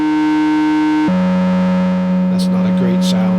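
A Sequential Pro 3 analog synthesizer plays a sustained, buzzy tone through its analog distortion, shifting pitch once partway through, while people talk faintly over it.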